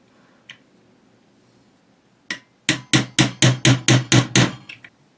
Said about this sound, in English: I got a hammer here, and I need to hammer that pin through